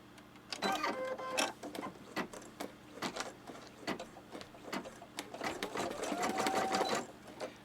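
A Brother Inovis sewing machine stitches in quick, rhythmic bursts of mechanical chattering, close and clear, with brief pauses between runs and a faint whine near the end.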